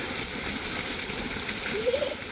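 Water gushes and splashes steadily from a motor pump outlet in a mango orchard, a close, continuous wash of spray with no talk over it.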